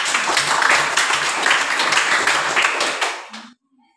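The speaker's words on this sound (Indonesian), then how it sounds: "Dan sebelum itu kita berikan aplaus buat mereka." A classroom audience applauds a student group with dense, steady clapping for about three seconds, which then tapers off quickly into near silence.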